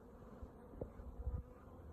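Honey bees buzz around an opened flow hive brood box, a soft, low, continuous hum with a few closer passes and faint handling knocks.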